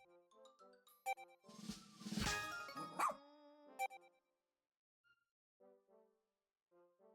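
Game dog from Pikmin 4 barking in a few sharp, close bursts around a loud central growl, followed by quieter short cues and near silence.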